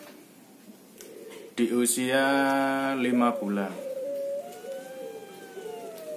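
A puter turtle dove with a guguk fault gives one loud, close cooing phrase of drawn-out, layered notes, preceded and followed by quiet room noise and someone talking.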